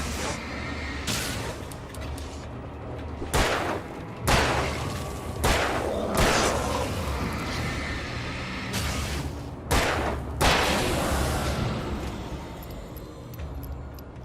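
Repeated gunfire in the video game Alan Wake, sharp loud bursts arriving in irregular pairs and clusters over a dense, rumbling game backdrop with no talk.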